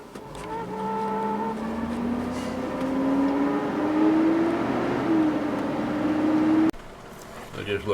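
A truck's power steering pump, running low on fluid, whines steadily as a rising, sliding tone over engine rumble from inside the cab, loud and continuous until it drops away near the end, with a person talking over it.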